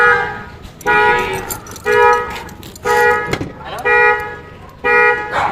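A car alarm blares in a repeating pattern, five loud harmonic blasts about one second apart, with brief pauses between them.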